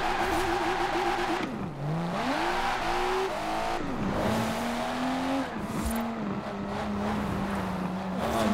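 Engine of a Lykan sports car racing in Forza Horizon 4, a loud continuous roar that rises and falls with gear shifts and acceleration, with no talking.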